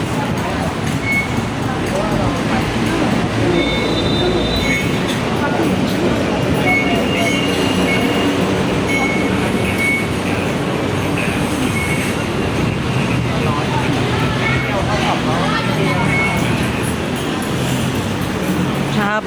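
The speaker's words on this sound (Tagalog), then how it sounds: "Nandito kami ngayon sa may MRT station." Busy MRT station ambience in Bangkok with a steady rumble of rail traffic, scattered beeps and a crowd murmuring throughout.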